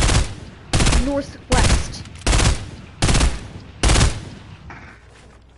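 Gunfire in a PS4 shooter game: six loud bursts of shots come at roughly regular intervals, each cracking sharply and fading, with brief player chatter between them.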